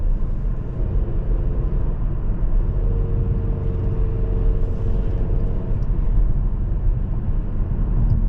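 A 2019 Kia Optima SXL limited luxury trim with a six-speed automatic drives along, its engine humming steadily under a low road rumble as it works through gear changes, heard from inside the cabin.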